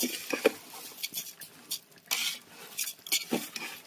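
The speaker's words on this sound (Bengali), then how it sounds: "কিশমিশ পেঁয়াজ ভাজা হয়ে গেছে এখন আমি এই চালটা দিয়ে দেব" Rice fries in a pan with raisins and onions for chicken biryani, heard as a faint sizzle under busy scraping and clinking of a utensil stirring against the metal, close and irregular.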